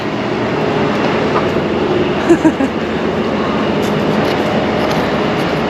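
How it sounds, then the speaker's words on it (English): The Amtrak Coast Starlight train at the Seattle station as passengers board, a steady loud rumbling drone with a few brief clanks near the middle. "I'm in Seattle waiting to board the Coast Starlight train, which is just boarding now"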